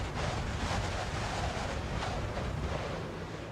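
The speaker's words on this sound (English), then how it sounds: "The winds are gusting to 33 knots as we drop the anchor." Steady, roaring wind gusting to 33 knots buffets the microphone for the whole stretch, a dense rumbling rush that swells and eases slightly without any pause, at anchor in an inlet in Southeast Alaska.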